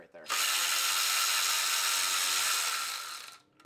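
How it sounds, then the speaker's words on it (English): A ratchet wrench with no extension backs off a 10 mm nut during a charge air cooler job on a 2024 ZR2 with a 3.0 Duramax, giving a steady, close, continuous run of fast clicking. "10 millimeter on the no extension. We're gonna go ahead and just take off that nut right there."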